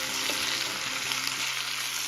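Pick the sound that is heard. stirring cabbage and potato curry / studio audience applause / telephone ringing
stirring cabbage and potato curry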